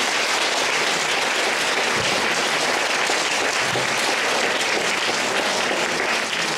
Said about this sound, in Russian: Давайте похлопаем Тамаре Борисовне.